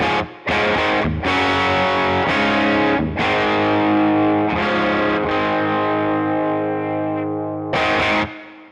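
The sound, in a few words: electric guitar with Cream of the Crop pickup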